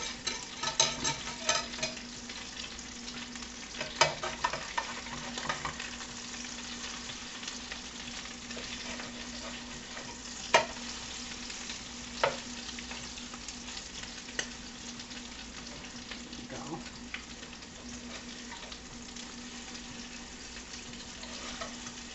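Meatballs for beef stroganoff frying in a pan, giving a steady sizzle with scattered spatter pops and occasional clicks of stirring and turning, close and without any talk.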